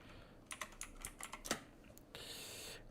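Typing on a computer keyboard: a quick run of close, light key clicks over about a second and a half, followed by a soft rush of noise.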